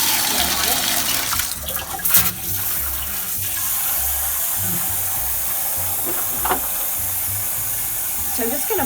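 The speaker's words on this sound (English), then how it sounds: "first thing I'm going to do is turn on the water." Water runs from a handheld tap into a Wonder Wash, a non-electric home washing machine, as a steady close hiss under a repeating low hum, with a few brief knocks and splashes along the way.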